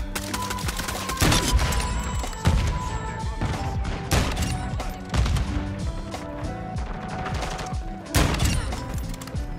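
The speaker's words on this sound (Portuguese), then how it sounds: "Só soltei uns tiros aleatórios e pegou todos, simplesmente." Random gunfire in a shooter video game with sniper rifles: dense, loud bursts of shots and impacts repeat throughout, layered over game music and effects, with no talking.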